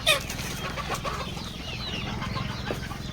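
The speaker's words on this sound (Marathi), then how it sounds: "इकडे कोंबड्या वगैरे सर्व खाद्य खात आहेत" Desi country chickens on a village poultry farm cluck steadily while eating feed, a close, continuous flock murmur with a brief louder call at the start.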